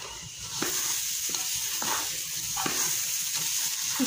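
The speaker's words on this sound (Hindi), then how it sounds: "अब हम इसमें थोड़ा पानी डालते हैं" Water poured onto semolina that has been fried for sooji halwa, raising a loud, continuous hiss and bubbling sizzle with rhythmic stirring scrapes throughout, no talking.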